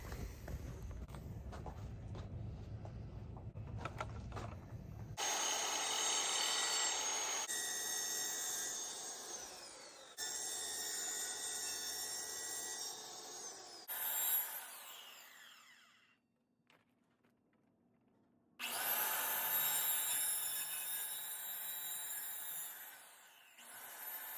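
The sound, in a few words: circular saw cutting excess fiberglass on a hydrofoil board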